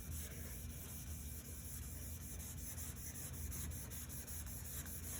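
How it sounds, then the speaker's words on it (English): Sandpaper rubs steadily by hand across a car's clear coat during wet sanding, a faint continuous scratchy swishing with no break and no voice. "just allowing the sandpaper to work across the surface"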